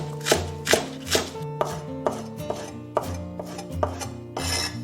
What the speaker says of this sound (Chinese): 接着我们准备1小撮蒜粒切粒。